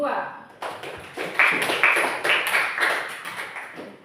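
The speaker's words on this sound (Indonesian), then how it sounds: "Tepuk tangan dulu untuk kelompok 2" A seventh-grade class claps for a presenting student group, a scattered patter of hands starting after a moment and fading out, with voices talking over it.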